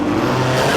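A Ferrari race car on a hillclimb course, its engine roaring loud and close in one continuous, sustained snarl with no other sounds over it.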